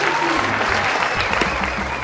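A studio audience applauds, a dense and even wash of clapping that stays loud and continuous from start to finish, with a few cheers mixed in.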